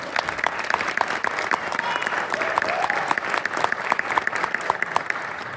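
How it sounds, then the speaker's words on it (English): Applause from the audience at a high school winter concert, steady, dense clapping that keeps a constant level for about six seconds with no voices on top. "yeah, another round of applause."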